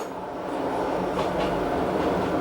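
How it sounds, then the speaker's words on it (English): The Glacier Express on the Rhaetian Railway rolls along behind a GE 443 electric locomotive with added coaches, heard from inside as a steady, loud rumble of wheels on track with faint rhythmic clatter. "It's gained various additional coaches and is now being hauled by one of the GE 443 locos"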